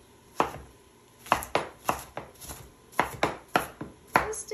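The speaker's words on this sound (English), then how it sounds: "And you chop this up real fine because that's going to go in the hamburger." A knife chops onion finely on a board for hamburger filling: about a dozen sharp, close strikes in uneven bursts, with brief pauses between groups.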